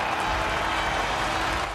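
A crowd at the Brazil GP in F1 22 applauds and cheers as one dense, continuous wash of clapping and noise, loud and steady throughout.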